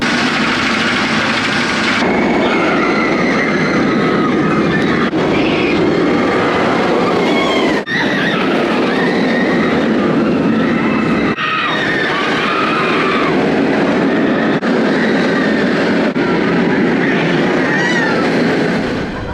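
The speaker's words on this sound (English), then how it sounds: "time to hit up Afterburn, one of the best B&M inverts ever made" A B&M inverted roller coaster, Afterburn at Carowinds, roars through a ride with a loud, continuous rumble and rattle, its wheels and track noise surging through cuts and turns while riders scream throughout.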